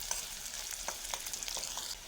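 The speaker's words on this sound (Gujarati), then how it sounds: "થોડી વાર ડુંગળી શેકવા દઈએ એટલે ચડી જાય મસ્ત." Onions frying in a pan for Gujarati kankoda curry, a steady soft sizzle with faint crackles and a few light stirring scrapes, close and without speech.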